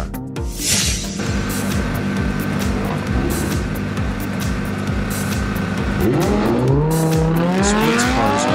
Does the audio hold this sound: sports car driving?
yes